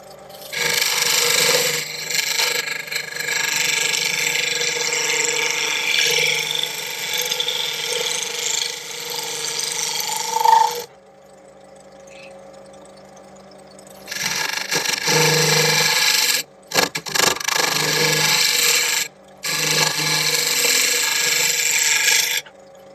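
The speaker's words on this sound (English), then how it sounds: "I needed to refine this curve a bit more and to smooth it out, so I've got a bigger beast of a scraper, thicker steel." Thick steel scraper smoothing the curve of a wooden sound horn, giving long rasping, ratchety scrapes in repeated bursts with a short quiet gap midway, close and fairly loud, with no speech.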